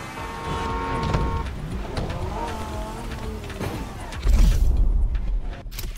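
The Lamborghini Terzo Millennio races in The Crew Motorfest, its engine whining and shifting pitch up and down, then surging into a louder, deeper roar before cutting off near the end.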